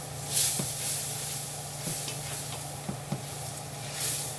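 Onions and garlic being stirred in a hot pot, a soft continuous sizzle with a few light scraping taps of the spoon against the pot, close and steady with no talking.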